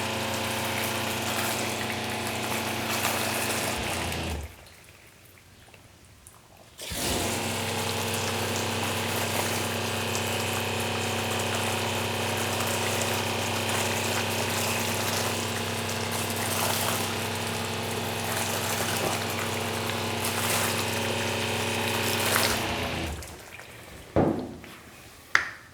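A water hose rinses a panel coated with Quivr hot coat IG737, a steady loud gush of spray running for about twenty seconds, broken by a short pause near the start and trailing off into a few drips and knocks at the end.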